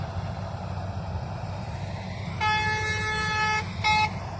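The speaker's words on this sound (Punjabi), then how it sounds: "ਵੱਜ ਗਿਆ ਹਾਰਨ" A vehicle horn honks twice, a long blast then a short one, over a low rumbling engine, in a paddy field during harvest.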